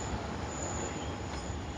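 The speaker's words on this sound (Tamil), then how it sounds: "பாருங்க, மேலே மெட்ரோ போகுது." A steady, loud rumbling roar of a metro train passing overhead, with a faint high whine riding on top.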